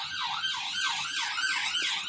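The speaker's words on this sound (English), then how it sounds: "Siren." A wailing emergency siren rises and falls in a fast, steady cycle, loud and continuous, with no voices over it.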